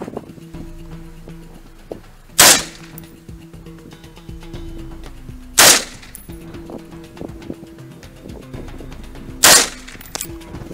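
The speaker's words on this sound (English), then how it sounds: "Warming up, gonna shoot this target at 25 yards." An AR-15 rifle fires three single shots at a target 25 yards away, each a loud, close, sharp crack spaced about three seconds apart, over a steady background hum.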